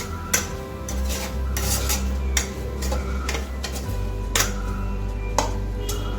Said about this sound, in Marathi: सर्व फोडणीमध्ये एकजीव करून घ्यायचं आहे